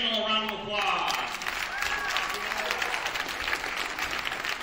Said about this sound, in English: Let's give David Saunders, Doug Jones, and Rich Randall a round of applause.